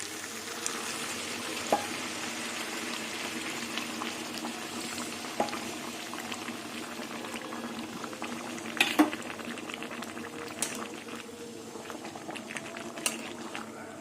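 Jackfruit and prawn curry with whole garlic bubbles after hot water is added: a soft, continuous simmering burble with occasional pops and small clinks.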